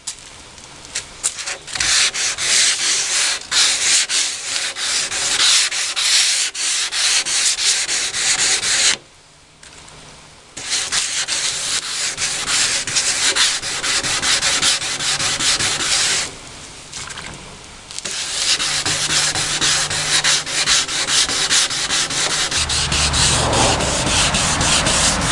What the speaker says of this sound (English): So done with the wet sanding.